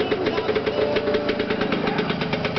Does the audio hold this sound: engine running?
yes